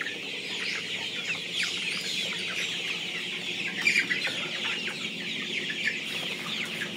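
Tiger chickens, a breed kept for meat on a farm, cluck steadily in a busy flock, with many overlapping calls rising and falling throughout and one louder squawk near the middle.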